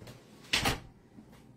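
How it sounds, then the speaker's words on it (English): A room door swings shut in a house with a noisy air conditioner running, giving one brief, close thud-and-latch clack in the middle of the clip, against a low background hum, with no talking. "So let me go shut my door here."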